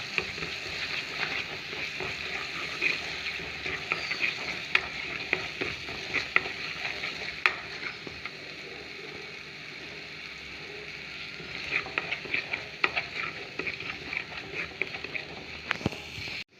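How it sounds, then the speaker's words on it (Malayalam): Curry leaves fried with ground masala paste in a frying pan for fish curry: a continuous close sizzle and crackle, stirred with a spoon that scrapes and taps the pan now and then, with no talking. "കറിവേപ്പില ശേഷം നമുക്ക് നന്നായിട്ടൊന്ന് ഇളക്കിയിട്ട് പച്ചമണം പോണ വരെ ഒന്ന് ഇളക്കി കൊടുക്കാം"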